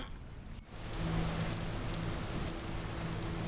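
Steady rain falls in the survival game Vintage Story, a dense broadband patter that swells after a brief dip and then holds constant, with a faint low hum underneath.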